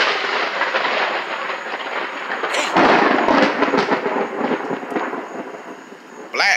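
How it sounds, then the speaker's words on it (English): A powerful thunderclap during an outdoor lightning storm cracks and rumbles loudly, rolling for a few seconds over steady rain-like noise, with a second sharp burst near the end. "Boy, it's lightning, thundering out here. That was powerful."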